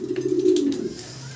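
A soft, low coo from a pair of Golla fancy pigeons at a pigeon farm rolls on for about a second, steady and close, then fades into a quieter hum.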